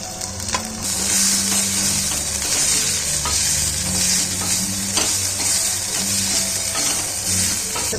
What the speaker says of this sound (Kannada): ಚೆನ್ನಾಗಿ ಫ್ರೈ ಆಗಲಿ ಬೆಳ್ಳುಳ್ಳಿ.